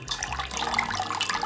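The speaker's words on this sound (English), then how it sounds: "let it drain till you can hear no more water draining out" Rinsed iceberg lettuce draining in a kitchen sink setup, a steady close trickle and patter of running water with no talk.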